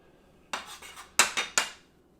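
Several sharp metallic clicks and scrapes up close as a floured cutter presses through beignet dough, Mickey-shaped, in a kitchen; four quick strikes in two clusters with nothing else behind them.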